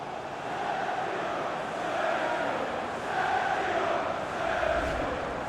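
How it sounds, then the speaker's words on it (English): A FIFA 19 stadium crowd roars after a Manchester City goal, a broad, steady wall of cheering that swells and ebbs slightly. "The crowd have gone crazy, and quite rightly so."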